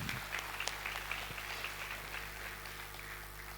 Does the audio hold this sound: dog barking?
no